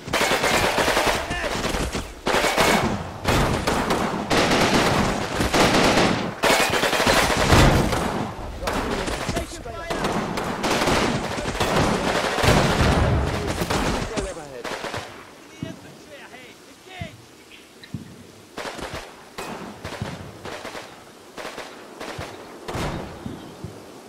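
Rifle and machine-gun fire rattles in the Normandy battle game Combat Mission, with dense overlapping bursts and sharp shots for about fifteen seconds, then thinner, scattered reports.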